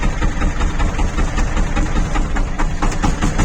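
A Shifeng 244 tractor engine idles near the point of stalling, a close, steady low diesel chug with a rough, uneven throb and no voices over it.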